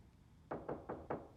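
Four firm knocks on a door come at an even pace, dull and moderately close, with no voices.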